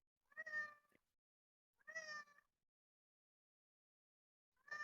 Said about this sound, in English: Just a cat meowing.